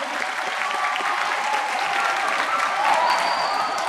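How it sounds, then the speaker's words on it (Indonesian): A school audience claps steadily through a religious assembly at a junior high school in Bandung, a dense, continuous patter of many hands that holds the same level throughout. "Oh, tepuk tangan atuh."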